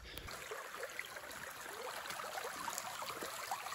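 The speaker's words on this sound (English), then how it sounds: "I'm walking right now across the creek." Creek water flows and trickles steadily on a trail crossing, a continuous close babbling stream with no talking.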